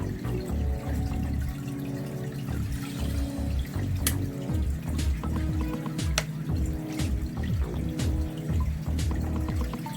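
Water pours steadily from a bottle into a new aquarium, a close gurgling splash with a few drips and small knocks, and no speech.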